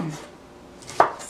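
A knife chopping trimmed Brussels sprouts in half on a cutting board, one faint soft cut followed by a single sharp close knock of the blade, in a quiet kitchen without speech.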